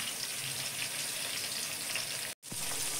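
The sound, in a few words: frying in a pan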